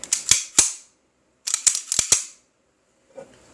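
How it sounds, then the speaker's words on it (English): Star Modelo Super pistol dry-fired with an unloaded chamber, giving several sharp, close mechanical clicks and snaps in two quick clusters separated by a pause, followed by a faint handling rattle. "Test fire the firing pin."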